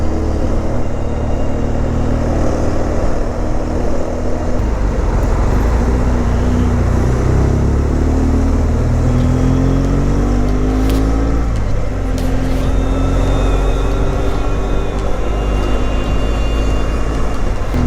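Steady city street traffic with car and bus engines passing and a continuous roadway roar, fairly loud and constant throughout with no voices, in a busy tourist town center.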